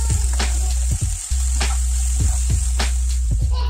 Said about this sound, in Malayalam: സവാള നന്നായി വഴണ്ടി കിട്ടുന്നത് വരെ, ഒരു ഒരു ഗോൾഡൻ ബ്രൗൺ കളറായി വരുന്നത് വരെ നമ്മൾക്ക് നന്നായി മിക്സ് ചെയ്ത് കൊടുക്കാം